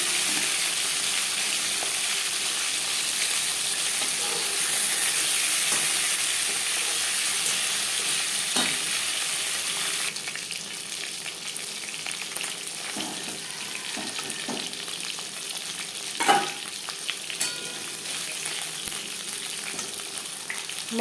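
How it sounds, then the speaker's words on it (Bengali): Fish pieces fry in hot oil for a light summer fish curry, a continuous bright sizzle that sounds louder at first, then settles into a softer crackle with scattered spatters and stirring knocks. "মাছ আমি হালকা করে ভেজে নিয়েছি।"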